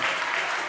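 Applause from the audience at a Sunday school Christmas program in an HKBP church in Kebayoran Lama, a steady, dense burst of many hands clapping close by that lasts under a second without pause.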